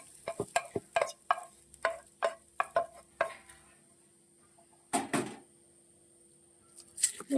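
A spoon scrapes and knocks against a pot as tempered mustard seeds are stirred into cooked jackfruit for Kuttanad-style chakka puzhukku, a series of close rhythmic clacks and scrapes with faint sizzling between them.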